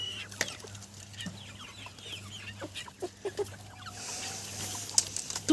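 Young Cochin and mixed-breed chicks with their hen cluck and peep while pecking at grain, soft scattered calls and taps close by, with brief sharper chirps toward the end.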